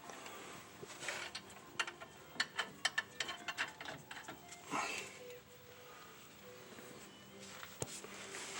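Washers and nuts fitted by hand on an Airmaxxx airbag load-assist kit give a series of faint metallic clicks and ratcheting ticks, clustered in the first five seconds with sparse taps later.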